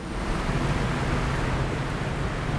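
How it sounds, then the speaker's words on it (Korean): Rough open sea surges around a fishing boat near Dokdo during shrimp trap fishing, a dense, continuous wash of water and wind noise, loud and close with no pauses. "배가 이래서 파도가 겁나다는 거야."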